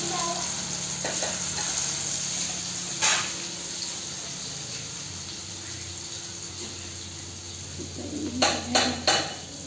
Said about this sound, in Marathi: आता आलं लसूणची पेस्ट फोडणीचा आवाज येतो